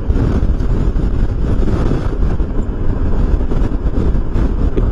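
Strong wind buffets the microphone of a motorcycle leaning left on the road, a loud, steady, unbroken roar with dense low rumble throughout and no talk.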